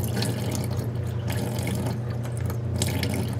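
Water leaking from an eBay aftermarket radiator in a Nissan 240SX S13, a steady close trickling and splashing with a constant low hum underneath and no talk.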